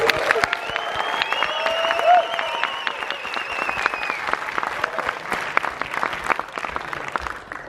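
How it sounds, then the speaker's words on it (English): Cinema audience applause and cheering welcoming Steven Spielberg and Tye Sheridan in Australia, a dense continuous crowd clapping with whistles and whoops layered over it, loud throughout. "Please give them a huge Australian welcome and round of applause."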